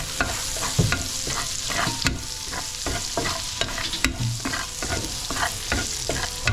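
Garlic frying in butter for a caldereta, a loud close sizzle broken by repeated sharp spatula scrapes and stirs against the pan, with no talk.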